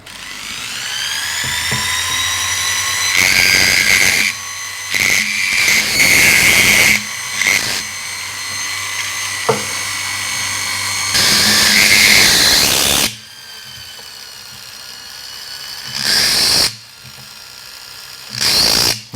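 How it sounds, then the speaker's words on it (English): High-pitched whine of a setting burr cutting a seat for a round stone in a flat metal plate, in repeated bursts of rising and falling tone with brief pauses between cuts. "Setting burr now, a little bit finer with the cut."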